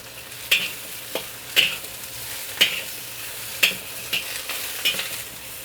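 Mushrooms sizzle and fry in a claypot over low-medium heat while a spoon stirs them, giving sharp scraping clicks roughly every second over a constant close hiss, with no talking.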